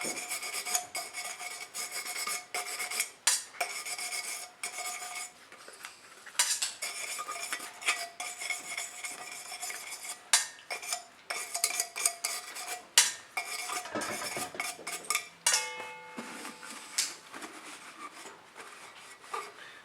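Scrubbing the cup of a 7500QT/7700QT spray gun with acetone, focusing on the rim where the gasket seals: sustained close rasping and rubbing strokes in quick uneven bursts, with occasional metallic clinks.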